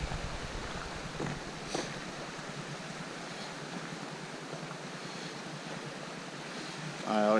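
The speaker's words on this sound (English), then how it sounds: "waterfall stuff everywhere." After heavy rain in Cook Forest, small waterfalls and runoff make a steady broadband rush, with wind buffeting the microphone and a brief louder thump near the end.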